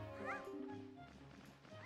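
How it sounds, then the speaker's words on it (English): A male cat meows loudly and insistently in a room, its drawn-out cries rising and falling under faint game audio. "My cat is meowing his absolute balls off in the background"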